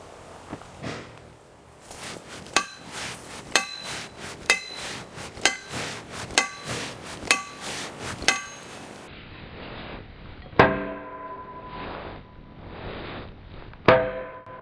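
Repeated metal strikes of a bar against a Tinker longsword blade, about eight sharp ringing clangs at a steady rhythm, then two louder isolated hits with lingering metallic ring, close and with no talking.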